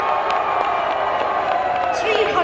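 Crowd cheering and clapping at a sports prize ceremony, the overall winners' trophy presentation, a steady dense roar with whoops and shouts, fairly loud throughout, with a voice faintly mixed in.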